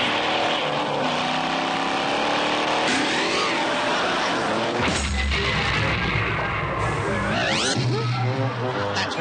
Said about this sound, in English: I filled the car up with rocket fuel.